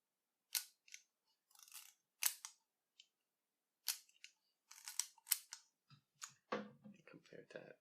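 A TDC Stereo Colorist II stereo camera gives a series of sharp mechanical clicks and snaps from its shutter and film advance, close and fairly loud with gaps between them, and a voice briefly speaks near the end.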